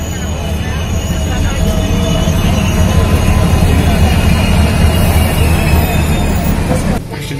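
Steady low rumble of a moving train interior, continuous and loud throughout with dense low-frequency roar and faint rail noise, dropping slightly near the end; no clear talk over it.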